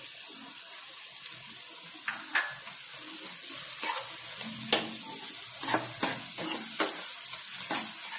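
Steady hiss of green chilies sizzling in hot oil in a frying pan, with occasional clinks and scrapes of stirring against the pan.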